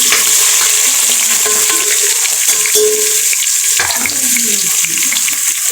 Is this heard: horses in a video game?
no